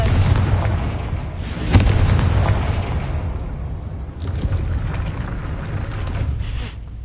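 Confringo fire spell blasts in the Hogwarts Legacy video game, loud booming explosive bursts with a sharp hit near the start and rumbling follow-on blasts throughout, no talking.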